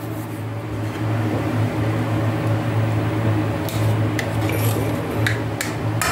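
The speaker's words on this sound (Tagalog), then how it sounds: "Ayan, kumukulo na siya." Tinola, a tilapia soup, boiling in a pot: a steady, loud bubbling and simmering roar with a low hum, broken by a few light clinks, and no talk.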